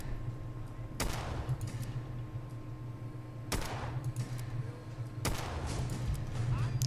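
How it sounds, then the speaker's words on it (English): A goo gun firing in Fallout 4, three loud, sharp blasts spaced a couple of seconds apart over a steady low ambient hum. "Here, have a taste of my goo gun."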